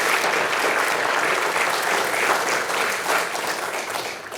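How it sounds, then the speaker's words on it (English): Crowd applause at an awards ceremony for the best places to work in the UK games industry, a thick, continuous roar of clapping from a packed room, steady throughout and easing slightly near the end. "Let's give yourselves a massive applause for that."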